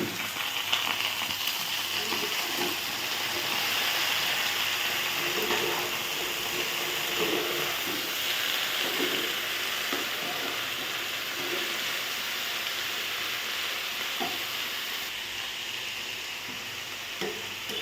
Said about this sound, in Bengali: পেঁয়াজ রসুন ভাজা শেষ, এখন শাকটা দিয়ে দিব।